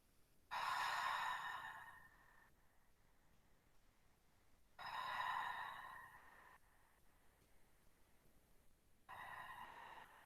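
Slow, deep breaths during a seated yoga stretch come in three long, airy exhale swells with quiet pauses between them, close and soft.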